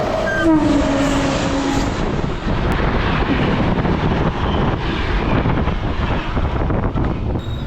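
Kovai Express 12676 passenger train running at speed, a steady loud rumble of wheels on rails with wind buffeting throughout and a brief horn-like tone early on.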